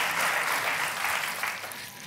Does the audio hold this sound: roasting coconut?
no